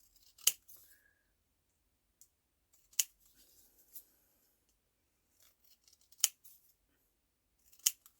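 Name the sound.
scissors cutting paper around vintage journal pieces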